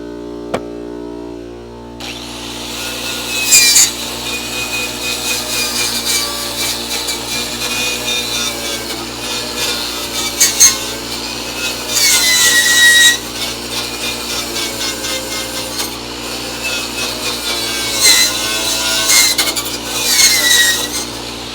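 A stainless wire brush scrubs seam sealer on the body of a Crew Cab Charger under restoration, giving a steady close rasping with several louder, harsher bursts of scrubbing.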